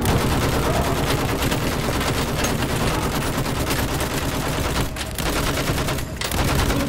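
Machine gun fire in Battlefield 1 pours out as continuous dense rapid bursts with overlapping gunshots, loud and unbroken apart from two brief dips near the end.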